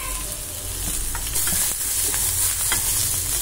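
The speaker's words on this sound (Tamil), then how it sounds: "நல்லையா ஆனியன் வதங்கட்டும். கொஞ்சம் பூண்டு நசுக்கி போட்டுக்கலாம்." Onion and crushed garlic sauté in a pan, giving a steady, close hiss of frying broken by several clinks and scrapes of stirring, with no talking.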